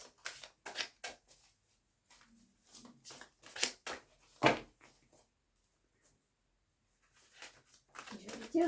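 Large oracle cards shuffled by hand, producing soft papery riffles and slaps in irregular short bursts, close and fairly quiet with gaps of near silence between them.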